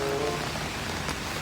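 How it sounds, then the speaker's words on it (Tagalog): Heavy rain falls outside, a steady, dense hiss of drops that is moderately loud and constant through the brief moment, with no talk. "Grabe yung ulan."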